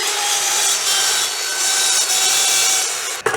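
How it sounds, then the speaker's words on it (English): A power saw blade recuts wood that is full of nails and screws, giving a loud, continuous, bright grinding rasp for about three seconds before a brief clunk at the end. "And lastly, a recut of the wood with all the nails and screws in."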